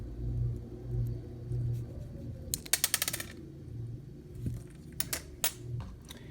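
Small model locomotive wheels and gears are popped out, giving a quick burst of close metallic clicks and rattles, then a few sharp taps after a low rumbling background.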